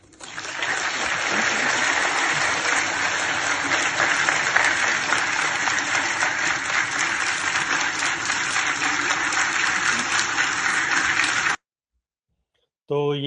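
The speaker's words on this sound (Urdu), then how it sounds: "سب سے زیادہ تالیاں بھی سہیل افریدی صاحب کی تقریر پہ بجائی گئیں" Sustained applause from a large audience at a national jail conference following Sohail Afridi's speech, dense steady clapping for about eleven seconds before cutting off abruptly.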